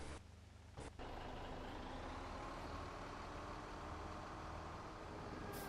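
A farm truck drives near a field being seeded in the outback, its engine a loud, steady rumble throughout, with a brief dip near the start and no talk.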